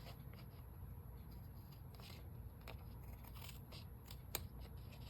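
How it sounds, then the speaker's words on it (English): Scissors cut paper during a craft project making a thank-you card from a guest check: soft, faint snipping and scraping strokes spread over several seconds against a quiet room hiss, with no talking. "And I don't like these scissors."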